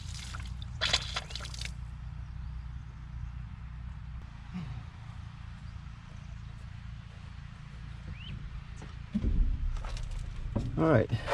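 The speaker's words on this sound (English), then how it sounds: "we definitely got fluid coming through" Seafoam fluid trickling and dripping from a disconnected fuel line on a 1997 Ford F350 with a 7.5 L 460 EFI V8, a steady wet patter over a low rumbling background, with a few louder splashes near the end.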